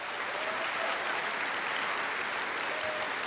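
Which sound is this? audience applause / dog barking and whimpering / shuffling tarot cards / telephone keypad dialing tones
audience applause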